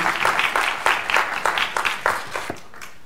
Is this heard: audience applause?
yes